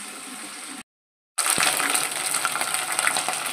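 Spice paste for mutton rassa sizzles and fries steadily in a pan with curry leaves and bay leaves, a dense close crackling that cuts out briefly and then returns louder and continuous.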